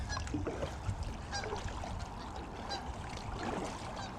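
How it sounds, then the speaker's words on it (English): Five Canada geese honk in short, repeated calls at a moderate distance while kayaking on Staten Island, over a steady rush of outdoor wind and water noise. "5 Canada geese."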